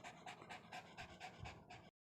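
A dog frightened by thunder in Hong Kong pants rapidly and nervously, with quick, even, close breaths repeating about four times per second at low volume.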